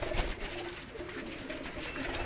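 Pigeons coo softly and repeatedly at close range, a low steady burble with a few brighter calls over background noise.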